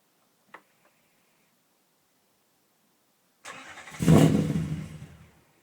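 LS2 car engine in an MGT90 attempting a cold start: a brief click, then a few seconds of quiet, then starter cranking that swells into a loud rough burst of engine noise before fading away without settling into an idle.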